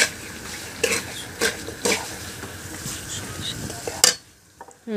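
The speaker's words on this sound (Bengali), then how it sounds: "এখন মাছগুলো দিয়ে হালকা নাড়তে হবে, বেশি নাড়া যাবে না, তাহলে মাছগুলো ভেঙে যেতে পারে।" Hilsa fish pieces in mustard are stirred in a frying pan, with a steady sizzle and several clear utensil scrapes and clinks against the pan, ending in a sharp clatter and brief quiet.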